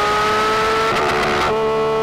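Porsche 911 GT3 RS engine revving hard under full acceleration in third gear, a loud, continuous high-pitched wail with rising harmonics and brief shift-like dips, close and alone without talk.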